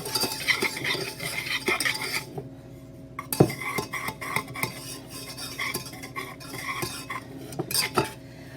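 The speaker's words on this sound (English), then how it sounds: "I'm going to use my wire whisk to whisk these two items together." A wire whisk stirring dry ingredients, cornstarch among them, in a pan before heating, with continuous scraping and clinking of metal against the pan, close, irregular bursts and no talking.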